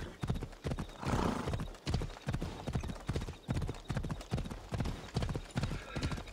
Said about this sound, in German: Okay, wir reiten jetzt einmal den Weg entlang.